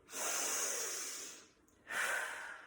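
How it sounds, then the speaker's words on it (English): Two slow, deep breaths taken up close, each a long airy hiss with a short quiet pause between them and no talking. "By deep breathing."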